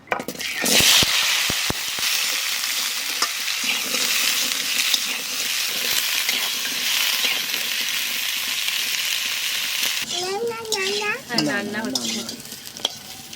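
Potatoes frying in oil left over from frying fish, making a loud, steady sizzle with occasional sharp clicks and scrapes of stirring; near the end, a sharp tonal squeal rises briefly over the frying.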